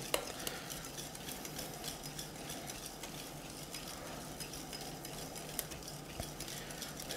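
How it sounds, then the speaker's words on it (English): A whisk scrapes and clicks steadily in a bowl of chocolate mixture while eggs are tempered, a soft, continuous stirring sound with small metallic taps. "I'm going to start the whisking process and slowly add this"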